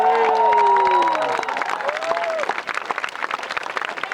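Crowd applause and cheering at the closing ceremony of the IQA World Cup finals, loud and close, with whoops and shouts over dense clapping that thins toward the end.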